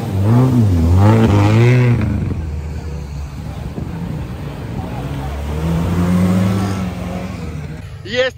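Off-road cars race on a sprint course, engines revving and roaring as a Lada Niva overtakes, loud and close, with a commentator talking over much of the engine noise.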